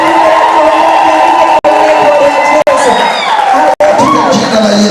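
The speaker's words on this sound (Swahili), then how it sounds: "Shangwe na vigelegele kwa Yesu." Church congregation at a bishop's ordination ceremony cheering, shouting and ululating loudly and continuously, with high trilling vigelegele rising over a dense, steady crowd roar.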